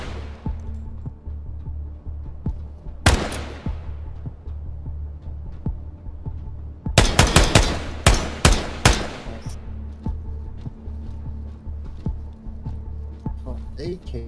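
AK rifle fire in the Ground Branch tactical shooter game: a single loud shot, then a quick burst of several sharp cracks in close succession, over a low steady hum.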